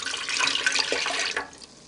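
Milk and water being poured into the pan of a Zojirushi bread machine, a steady close liquid stream for over a second that then tapers to a softer trickle, alone with no talking.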